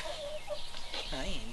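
Hen clucks, a few soft low calls with one rising warble near the end, close by, with faint room noise behind.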